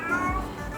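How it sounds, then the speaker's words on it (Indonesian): A cat meows once, a brief wavering cry rising and falling over a steady background hum, fairly close and moderately loud. "Ada kucing pula."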